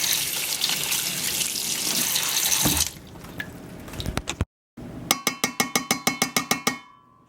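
A kitchen tap runs steadily as something is rinsed under the water for about three seconds. A spoon then clinks against a dish a dozen times in quick, even taps.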